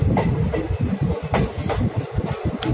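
Chetak Express passenger train rolling into Modpur station, wheels clattering steadily over the rails with a rhythmic clickety-clack and a low rumble, close and fairly loud throughout.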